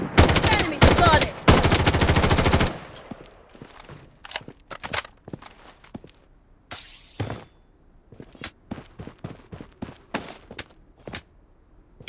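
Automatic weapon fire from the Blood Strike video game comes in loud, rapid bursts at first, then thins out to sporadic single shots and short volleys mixed with footsteps and clatter.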